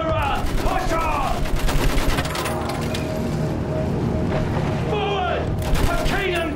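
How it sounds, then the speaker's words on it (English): Rapid machine gun fire crackles almost nonstop through a Battlefield 1 World War I trench battle, loud and close, with booms and battle noise layered over it and voices shouting throughout. "Use that machine gun! Mow them down!"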